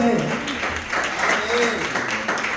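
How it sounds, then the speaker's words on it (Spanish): A church congregation applauds during a sermon, a loud wash of clapping mixed with voices and cheering close by, continuing throughout. "¿Alguien le puede dar un fuerte aplauso al Señor?"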